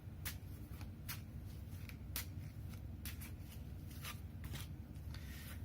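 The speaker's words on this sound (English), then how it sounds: "Just to show that I'm shuffling." Tarot cards being shuffled by hand, a steady papery rustle with repeated soft riffling bursts, close and fairly quiet throughout.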